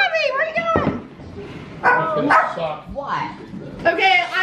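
Dog barks and yips in short bursts at a home birthday gathering, mixed with excited human voices talking over and between them.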